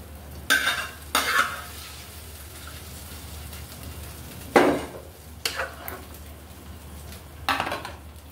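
Fried onion and green chili stirred into prawn jaldoba in a pot with the stove just switched off: a few scraping, clinking stir strokes over a low, steady simmering hiss, close and fairly quiet.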